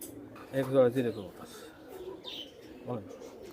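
Jire pigeons at a pigeon farm give soft, low coos close by, a few short bursts mixed in with a person talking.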